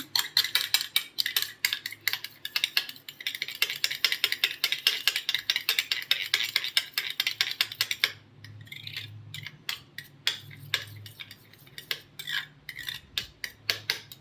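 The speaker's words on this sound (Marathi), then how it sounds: "व्यवस्थित फेटून घ्यायचंय बघा दह्याला" Rapid, steady clinking of a spoon or whisk beating yogurt in a bowl, continuous busy scraping and tapping that slows slightly toward the end, close and fairly loud with no talking.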